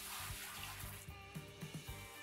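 Water sloshing and rinsing through a gold pan in Gold Mining Simulator, a steady wet wash with a few soft splashy surges, close and moderately loud with no speech.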